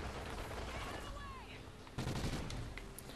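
Gunfire in Call of Duty: Ghosts Extinction Nightfall, a dense burst of game shots with a sharper volley near the end over steady background game noise.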